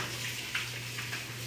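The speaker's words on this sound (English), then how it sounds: "give my hands a quick wash" Tap water runs steadily while hands are washed at a kitchen sink, a soft continuous splashing hiss with a low hum beneath it, close by and without talk.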